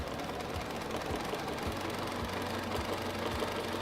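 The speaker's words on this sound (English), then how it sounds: "we're just going to keep on quilting through, leaning up against the edge of the ruler" A sewing machine stitches a daisy design in ruler quilting, giving a steady rhythmic mechanical hum with regular needle thumps, close and even throughout.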